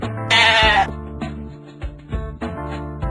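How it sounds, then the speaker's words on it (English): A sheep lets out a single short, loud bleat near the start, followed by soft background music. "Sheep."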